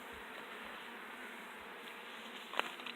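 Honeybees, Africanized colony being requeened with Italian queens, droning steadily in an opened hive, a dense continuous buzz close up with one brief louder flick near the end.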